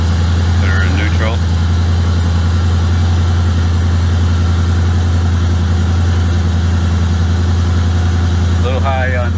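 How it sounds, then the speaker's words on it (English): A 1996 LT1 V8 fitted with a TorqHead install idles high and steady, a close, loud and even low drone throughout, with brief voices near the start and end. "A little high on the idle. It'll come down pretty soon, hopefully."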